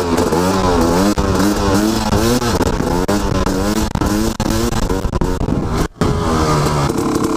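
A motorcycle engine revs hard and continuously during a wheelie attempt, its pitch rising and falling in repeated sweeps as gears are worked, loud and close, with a brief cutout near the end.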